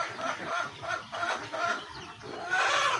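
Chickens and roosters on a farm that also keeps quail, ducks and cattle, clucking in uneven bursts at moderate distance, fairly quiet and without talk.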